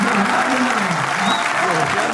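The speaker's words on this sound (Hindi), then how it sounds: "गुप्ता जी के लिए तालियां बजाइए।" Loud, dense clapping from a crowd at a Hindi poetry recital, sustained evenly throughout with a voice faintly audible beneath it.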